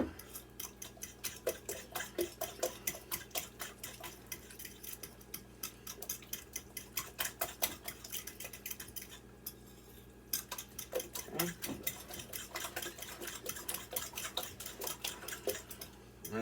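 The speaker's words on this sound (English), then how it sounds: "just kind of mix it up" A utensil stirs pumpkin pancake batter in a bowl, producing quick regular ticking clinks against the sides, close and steady with a brief pause midway before the mixing resumes.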